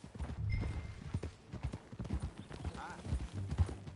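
Horse hooves clip-clop in a quick, uneven rhythm in Red Dead Redemption 2 alongside a faint whinny, with voices talking over the riding sounds.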